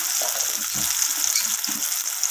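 Cut pointed gourd (potol) fries in oil with a constant bright sizzle. Soft low knocks and stirring sounds come and go beneath it, and no one speaks.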